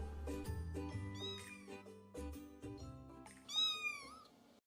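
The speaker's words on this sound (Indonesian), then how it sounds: "Ada kucing lah kat kaki adik." A cat meows close by, several drawn-out calls in a row, the last one higher and louder, with no voices.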